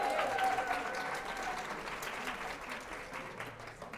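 Applause from the studio audience of a Catalan TV quiz show after a school team's final score is announced, a dense burst of clapping that gradually thins out over a few seconds.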